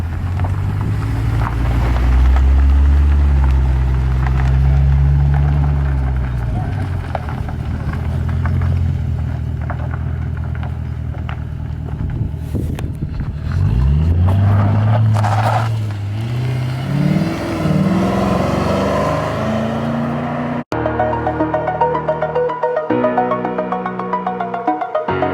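A wrecked Ford Mustang GT with an automatic transmission is driven, its engine droning loudly and steadily with rising and falling revs, plus wind buffeting the microphone throughout.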